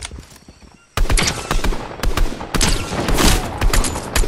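Rapid automatic gunfire from a gun in the video game Fortnite: a first lone shot, then dense bursts of loud, close shots with short gaps between them.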